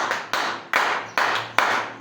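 A church congregation claps in five loud, unison claps at an even, slow rhythm, each one sharp and close, with no talk over them.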